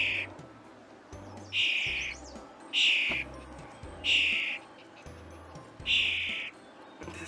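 A bird gives a series of five or six short, clear, high calls at a regular rhythm, each about half a second long, fairly close and distinct over a quiet background with a low repeating hum.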